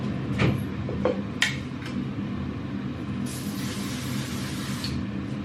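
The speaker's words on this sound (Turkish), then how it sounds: "Ay bu spreyin kokusunu çok seviyorum." An aerosol spray can hisses in a steady continuous burst for about two seconds near the end, after a few light clinks and taps against a low background hum.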